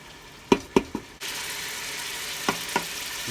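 Onions and garlic fry in a pan for Filipino sopas, a steady sizzling hiss that begins after a few sharp utensil knocks, with two more light taps later.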